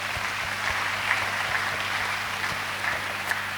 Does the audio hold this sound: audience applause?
yes